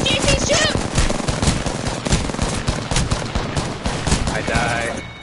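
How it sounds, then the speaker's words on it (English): Rapid automatic gunfire rattles in Apex Legends, bursts of sharp shots repeating across the whole stretch alongside in-game effects, loud and close. "Shoot, JC, shoot"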